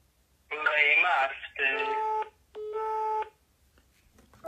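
A telephone number dialed by phone, heard as three bursts of tonal beeps over about three seconds, fairly loud and close, with no speech over them.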